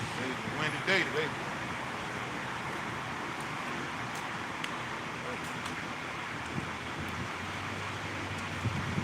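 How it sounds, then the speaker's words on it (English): Steady wind roars across the microphone, a broad, constant rush with occasional gusts and faint knocks. "Windy day today."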